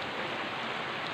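Steady rain falling on a farm makes a dense, continuous hiss with no breaks, close and even throughout.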